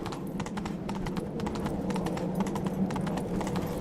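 Roach, Geralt's horse in The Witcher 3: Wild Hunt, galloping with a steady, rapid clip-clop of hooves throughout, close and continuous over a low rumbling game background.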